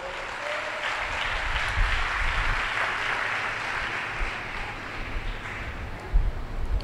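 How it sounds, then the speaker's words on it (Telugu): Audience applause at a church gathering, a sustained, dense crowd clapping that holds steady for several seconds before thinning slightly near the end. "కొట్టు చప్పట్లు ఒకసారి."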